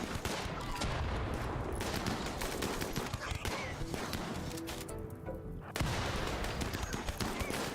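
Gunfire from a firefight in the colony game Rimworld. Rapid, crackling volleys of shots repeat throughout, with a short lull near the end, and faint voices are heard under the fire.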